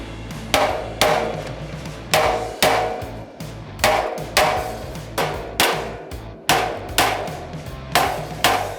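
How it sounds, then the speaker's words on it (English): Hammer blows flattening tack welds on thin butted sheet metal before TIG welding: about a dozen sharp, ringing metallic strikes in an irregular steady rhythm, close and loud, with no talking. "You'll also see that I hammered these tacks back down."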